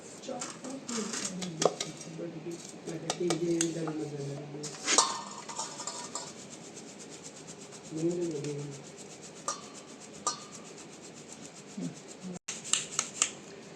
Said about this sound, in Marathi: जरा आता आपण ह्याला चाळणीतनं चाळून घेऊया.